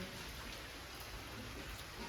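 Steady rain falls on a monsoon day, a soft, even hiss of drops on surfaces with no talking over it, fairly quiet and unbroken throughout.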